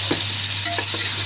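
Chicken pieces being stir-fried (bhuna) in a pan for chicken pulao, a steady close sizzle with a few soft spoon scrapes and stirs, no voices.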